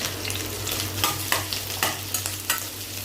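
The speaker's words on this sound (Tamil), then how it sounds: "கொடை மிளகாய், வெங்காயம் இதை போட்டு கொஞ்சம் லைட்டாக லேசாக வதக்கி விடுங்க" Capsicum and onion sauté in hot oil, a dense continuous sizzle punctuated by regular scraping stirs of a spoon, close and fairly loud with a low hum beneath and no talking.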